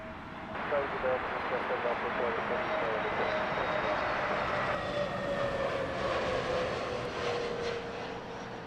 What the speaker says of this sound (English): Turkish Airlines in from Istanbul.